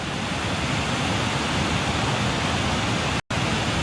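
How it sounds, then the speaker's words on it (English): A river roars over a weir in a dense, steady wash of rushing water, loud and unbroken except for a split-second dropout near the end. "I hear the roar of the river, and it's magnificent"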